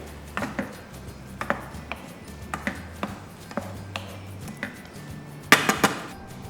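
A spoon scrapes and taps in a pan of cooking tomato chutney as sugar is stirred in: a regular series of light clinks and knocks, roughly one every half second, ending in a louder cluster of clatters, close and without talk.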